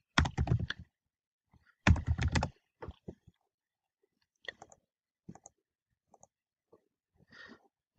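A folder name is typed on a computer keyboard: two short bursts of quick keystrokes, then a few scattered single clicks, all faint in a quiet room.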